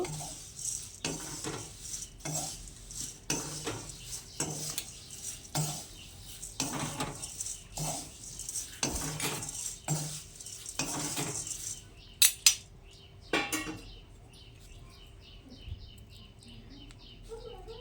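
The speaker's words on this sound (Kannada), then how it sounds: "ಇದನ್ನು ಕೈ ಬಿಡದೆ ಹುರಿಬೇಕು" A utensil scrapes and clatters against a pan in repeated strokes while poha is dry-roasted and stirred, with faint birdsong later.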